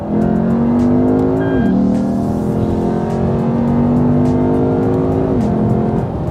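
Close, loud cabin recording of a 2008 Lexus IS F V8 accelerating hard up an off-ramp, the engine tone climbing steadily through two quick upshifts with no talk.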